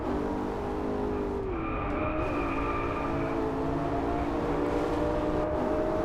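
A Maserati GranTurismo engine in a VR racing game drones steadily and close at sustained speed, with tonal engine harmonics sliding slightly as revs shift.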